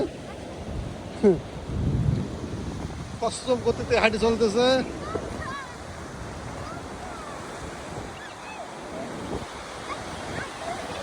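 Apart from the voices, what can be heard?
sea waves washing ashore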